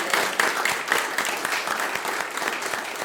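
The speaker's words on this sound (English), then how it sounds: "Let's have a big round of applause for them." Audience at a Gettysburg town hall gathering breaks into sustained applause, a dense, even wash of many hands clapping with no voices over it, holding steady from start to finish.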